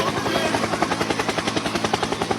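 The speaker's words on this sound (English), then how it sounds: "Helicopter, helicopter." Helicopter rotor thumping steadily at close range, rapid regular blade beats pulsing throughout with a loud turbine whine, no voices.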